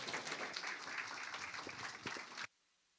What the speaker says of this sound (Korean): 우리 귀한 형제님 또 나오실 때에 우리 큰 박수로 환영하기를 원합니다